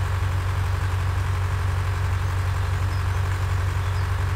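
A tractor engine in a farming simulator game runs steadily with a deep, constant low droning hum and even throb, loud and unbroken throughout with no talking.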